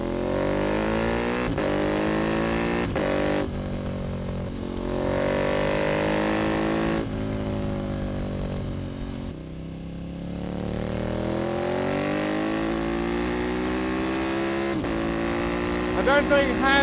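A KTM Super Duke 1290R motorcycle on a fast road ride, its engine droning loudly and continuously close by, rising and falling in pitch through gear changes and acceleration, with wind roar throughout.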